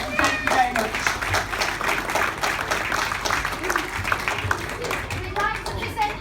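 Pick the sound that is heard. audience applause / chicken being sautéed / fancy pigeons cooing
audience applause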